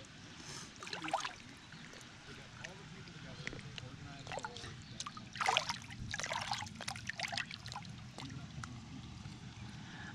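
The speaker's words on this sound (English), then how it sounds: "I just think it's really neat how the water is coming off this rock." Water trickling and dribbling off a rock outdoors on a quiet day, a soft steady splashing wash with scattered brighter drips, fairly faint and continuous.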